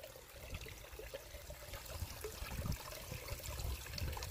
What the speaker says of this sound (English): See if we can wash away a little more there.